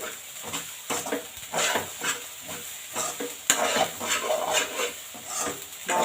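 Fish roe fry with coriander is stirred in a hot pan, with rhythmic scraping strokes over a continuous gentle sizzle, close and moderately loud, and no talking.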